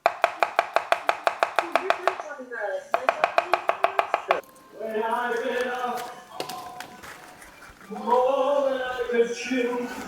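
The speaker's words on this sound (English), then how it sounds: "Chop the garlic and the leeks now." A knife chops garlic and leeks on a board in a fast, even run of about twenty crisp strokes, pausing once, before voices take over and talk for the rest of the time.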